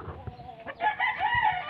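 Phoenix chicken rooster crowing close by, one short crow rising and holding, fairly quiet against a soft background.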